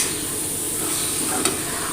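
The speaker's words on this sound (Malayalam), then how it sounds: "നന്നായിട്ട് മിക്സ് ചെയ്തെടുക്കാം." A North Indian curry with wilted fenugreek leaves is stirred in a pan over a low flame, giving a steady, soft scraping and gentle sizzle with one brief louder clack near the end and no voices.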